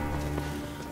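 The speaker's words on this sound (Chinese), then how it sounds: "外面打着雷又下大雨，" Heavy rain pours steadily outside during a storm, a dense close wash of drops on surfaces with no clear thunder rumble in this brief moment.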